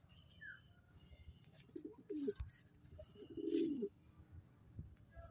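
Soft coos from an Andhra pigeon, a couple of low rolling calls, close by over a quiet outdoor background with faint birdsong.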